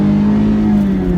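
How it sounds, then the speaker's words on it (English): A 2017 Mazda Miata MX-5 engine drones steadily at close range, a sustained rev with a strong low hum and no voices over it. "The engine noise,"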